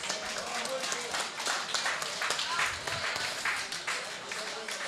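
An audience claps steadily at an accordion school concert, welcoming an older student to the stage; the applause is dense and continuous, with some voices mixed in.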